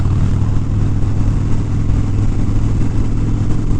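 Harley-Davidson Low Rider ST motorcycle rumbling steadily nearby in the Arizona desert, a loud continuous low engine drone that holds constant throughout with no voices.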